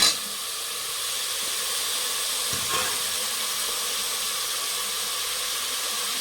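Chopped tomatoes and onions sauté in a hot pan for a soya tomato biryani, a steady close sizzling hiss throughout with a faint scrape partway, no voices.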